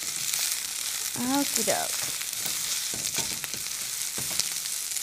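Vegetables stir-fry in a pan with a steady, bright sizzle that runs throughout, and a voice speaks briefly early on.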